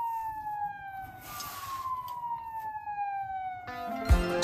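Fire engine siren outside a hotel at night, a wailing tone sliding slowly downward at moderate distance, with a louder horn-like blast and rumble near the end.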